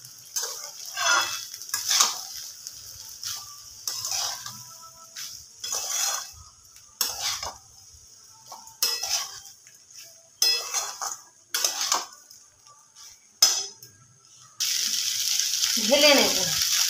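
Egg chicken fried rice being stirred in a pan, repeated scraping strokes of a utensil against the pan in an uneven rhythm, ending in a loud continuous sizzle of frying, close by.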